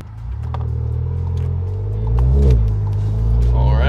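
A Volkswagen MK7 GTI with tuned suspension pulls off onto the road, its engine giving a close, steady low rumble that swells briefly mid-drive.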